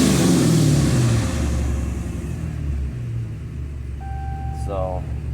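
A Hellcat 5.7L engine, being tuned with advanced timing, roars loudly at first and then eases down into a steady, deep rumbling idle nearby.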